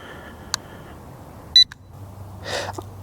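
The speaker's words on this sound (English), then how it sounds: "Okay, so you heard that beep" A short electronic beep from an LYZ RC L109 Pro quadcopter drone during gyro calibration rings out once against a quiet background, with a couple of faint clicks and a brief rustle afterward.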